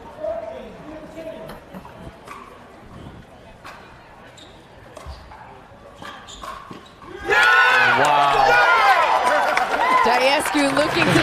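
At a pickleball men's doubles final, paddle pops and footsteps sound over the court while a commentator talks. Then a sudden, loud wave of crowd cheering and clapping erupts and holds steady to the end.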